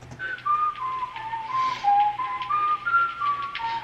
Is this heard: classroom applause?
no